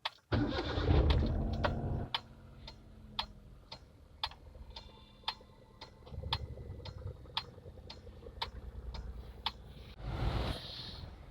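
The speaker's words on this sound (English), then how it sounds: "let's go ahead and start the engine and test our AC system" A Hyundai Eon car engine cranks and fires at the start, followed by a steady regular ticking and a low idle, with a second cranking burst near the end.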